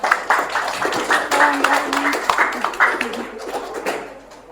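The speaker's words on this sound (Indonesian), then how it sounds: "Beri tepuk tangan dulu." Clapping from a class of teachers in a training session, a ragged burst of hand claps with some distinct individual slaps, and a few voices murmuring underneath as it tapers off.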